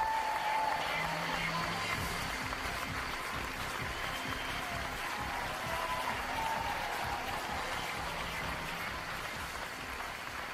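Studio audience applauding on a television programme, a steady, dense wash of clapping that holds at an even level for about ten seconds without talk.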